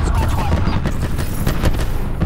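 Nine-bang stun grenade going off in Black Ops 4 gameplay: a dense run of sharp, loud bangs and gunfire-like cracks with game voice lines mixed in.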